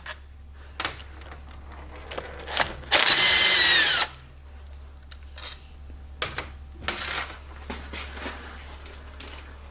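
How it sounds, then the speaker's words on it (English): A power tool loosens the bolts on a scooter's gear case (final drive) during a gear set installation, giving one loud, close, roughly one-second buzzing burst amid quieter clicks and taps of handled parts. "I'm loosening in a star pattern."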